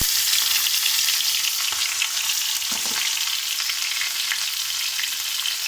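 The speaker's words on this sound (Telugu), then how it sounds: "ఇప్పుడు ఉల్లిగడ్డ, పచ్చిమిర్చి ఇవన్నీ వేసేసుకున్నామండి" Onions and green chillies sizzle and crackle in hot oil, a dense, continuous frying hiss close to the pan, with a brief stir partway through and no voices.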